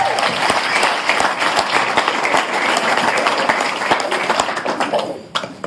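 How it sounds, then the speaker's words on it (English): Wedding guests applaud loudly and steadily at a reception, a dense wash of clapping that carries on for several seconds before thinning out at the end. "Let's hear it for John and Sue again."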